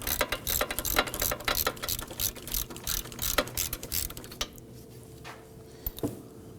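An upper caliper bracket bolt being loosened on a 2005-2009 Subaru Legacy during front wheel bearing and hub replacement, heard as a steady run of rapid ratchet clicks that slows into a few separate clicks near the end, close and alone.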